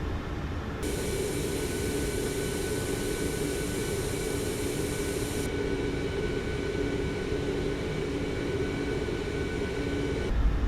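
Airliner jet engines spool up for taxi out of Calgary in Microsoft Flight Simulator 2024, a steady, loud broadband roar with a whining tone that holds evenly throughout with no voices.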